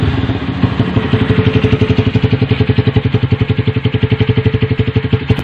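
A Honda Verza 150 motorcycle fitted with an Akrapovic exhaust idling on a high setting, a loud close, steady fast-pulsing throb with a rough, clattery exhaust note throughout.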